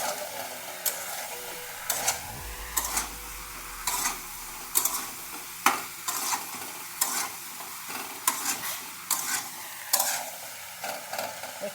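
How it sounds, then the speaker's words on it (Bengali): Shrimp and ash gourd curry stirred in a pan in a village-style Bengali kitchen, with a spoon scraping and knocking in a steady irregular rhythm over a soft, continuous sizzle, close up and moderately quiet. "বেশ ভালো করে এখনই নাড়িয়ে চাড়িয়ে"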